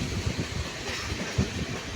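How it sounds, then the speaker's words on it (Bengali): A MEMU passenger train rolls on rails on the Nalhati–Azimganj line, heard from inside the carriage with a steady rumble and rhythmic wheel thumps over rail joints as it pulls into Takipur station in the rain. "তো আমাদের ট্রেন ঢুকছে তকিপুর"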